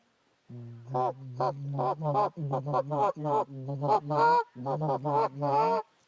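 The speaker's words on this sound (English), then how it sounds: "One of the other baseline critical things you have to learn on a Canada Goose call is to murmur" A Canada goose call blown in a soft, rapid murmur: a steady run of short, honking goose notes with little pause, close and fairly loud, with no talking.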